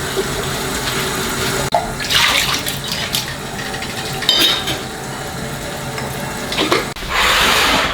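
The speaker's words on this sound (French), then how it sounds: "on va laver nos bocaux et laver les couvercles" Glass jars and their lids are washed under a running tap, with water splashing steadily and a few clinks of glass against the sink, close up with no talking.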